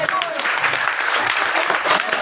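Brisk clapping from an audience at a school's annual result ceremony, steady and close throughout, with a voice talking over it.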